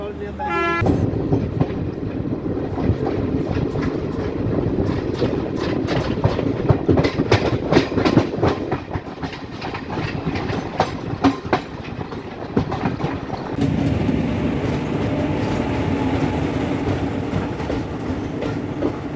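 An Indian Railways Garib Rath express from Muzaffarpur to Delhi rolls along the rails near Lucknow, with steady clickety-clack of wheels over rail joints and a continuous rumble, loud and close, as people talk faintly in the background.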